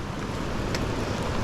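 Heavy rainwater rushes through a city drainage culvert during a record rainfall, producing a loud, continuous roaring wash of water with no pauses.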